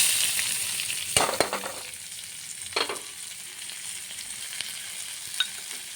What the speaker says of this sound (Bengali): পেঁয়াজ কাঁচা লঙ্কা একসঙ্গে ভেজে নেব